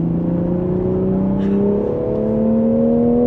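Manual-transmission 2026 Toyota GR Supra MK5 Final Edition engine pulling hard on a track lap, a loud, steady in-cabin drone with harmonics climbing in pitch as revs rise, continuous throughout with no talking.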